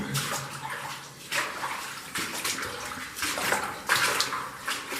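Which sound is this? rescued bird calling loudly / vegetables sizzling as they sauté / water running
water running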